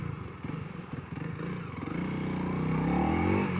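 A Honda CRF300L motorcycle being ridden, its engine note rising and falling with gear changes: a low pulsing mid-range drone climbs steadily in pitch and loudness toward the end, close and continuous with no talk.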